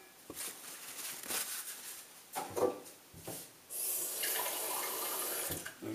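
Tap water runs into a container in a kitchen where tofu yoghurt is being made. A steady splashing stream starts partway through, after a few scraping and handling knocks.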